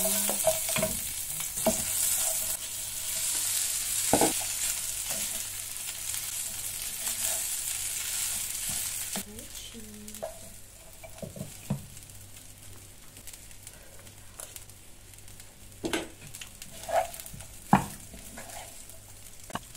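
Garlic sizzles and crackles steadily in a hot pan for shrimp sinigang, a continuous close frying hiss that eases after the midpoint, with occasional stirring scrapes and light clinks.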